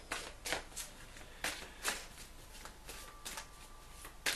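Animal oracle cards being shuffled by hand, with soft, quiet riffling bursts repeating in an irregular rhythm, close up and heard alone without any talking.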